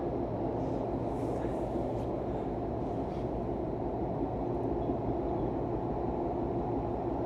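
Passenger train running from Oslo through a long tunnel, a steady loud low rumble and rolling rail noise that fills the whole stretch without letup.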